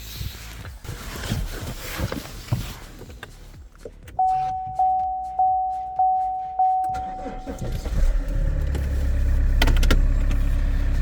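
An Opel Insignia engine cranks over with a chiming warning tone pulsing in the cabin, then catches and settles into a steady low idle, heard up close from inside the car.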